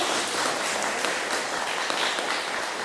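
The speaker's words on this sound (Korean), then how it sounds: "우리 응원의 박수 한 번 더 보내드릴까요?" An audience at a church retreat lecture applauds steadily, dense clapping filling the room without a pause.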